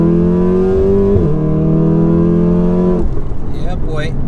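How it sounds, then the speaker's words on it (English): A tuned Volkswagen Golf R exhaust drones loudly at steady revs, drops in pitch, then cuts to crackles and pops as the throttle closes. "there's no denying that this Golf R is one of the better sounding ones"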